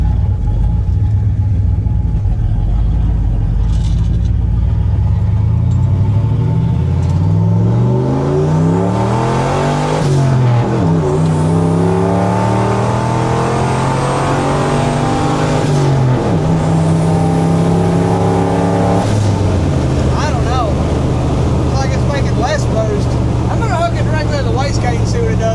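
A turbocharged 331 engine in a 1976 Ford F250 runs steadily and loudly, its tone rising and falling through several revs with harmonic sweeps as the throttle is worked. A voice is partly audible.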